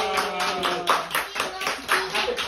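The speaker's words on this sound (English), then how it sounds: "Premature clapping." Audience clapping at a children's book reading, a burst of rhythmic hand claps in uneven pulses, close and moderately loud, with speech and a sustained tonal voice mixed in.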